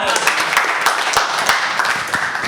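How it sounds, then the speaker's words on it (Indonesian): Audience applause at a live talk show, loud and dense clapping from many people that carries steadily throughout, with crowd voices mixed in. "Tepuk tangannya dong."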